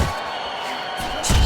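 A hook punch lands in Fight Night Champion boxing, a sharp thudding impact near the end, preceded by a fainter hit, over a murmuring arena crowd with commentary voices.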